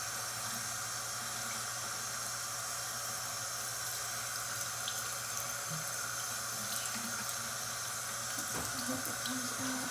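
Tap water runs steadily from a faucet into a sink while protective-style hair is washed, a continuous close hiss with small splashes toward the end.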